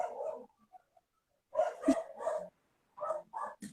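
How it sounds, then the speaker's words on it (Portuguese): Dogs bark in short clustered bursts, a few yips at first, then a loud volley and two more barks after a pause, heard from some distance indoors. "Meus cachorros, tá dando muito para ouvir meus cachorros latir?"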